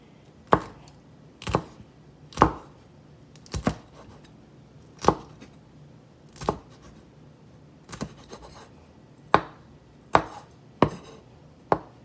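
Chopping peppers with a knife on a cutting board for guacamole: about a dozen sharp, close knife thuds at a slow, slightly uneven pace, with quiet gaps between strikes.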